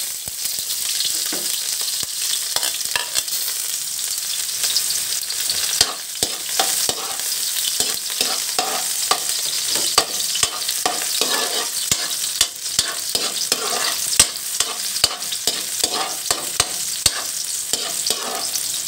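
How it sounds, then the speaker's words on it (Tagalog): Onion sautéing in a pan for pork liver steak, a loud continuous sizzle with frequent scraping stirs and crackles close up, no voices. "Tayo ay magigisa na. Magluluto tayo ng liver steak."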